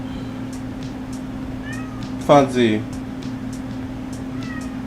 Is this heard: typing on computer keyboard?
no